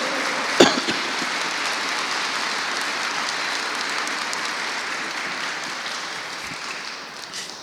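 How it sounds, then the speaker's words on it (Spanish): A church congregation applauds together in a steady, dense wash of clapping that holds for several seconds and then tapers slightly near the end. "Si le vas a dar un aplauso al Señor."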